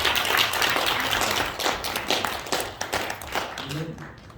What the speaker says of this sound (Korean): 우리 대표 총재님께 우리 한번 감사의 박수 한번 합시다.